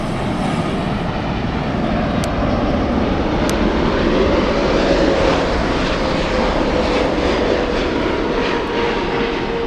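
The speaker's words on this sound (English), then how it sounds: "That's our LAX flight." A jet airliner bound for LAX rumbles at Frankfurt airport, a loud, continuous engine roar with a faint rising whine, steady and close for the whole stretch.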